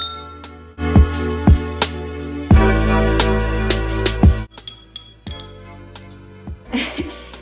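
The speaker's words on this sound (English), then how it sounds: "You hit the outside of the glass, like this." Drinking glass tapped on the outside with a utensil to make music, giving a series of bright ringing clinks in an uneven rhythm, some overlapping and sustaining, close and clear with faint household noise.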